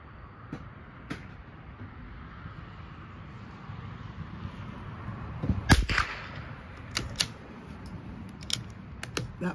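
A single sharp crack from an accurized .22 LR target rifle near the middle, set against outdoor wind noise and scattered small clicks of handling and loading.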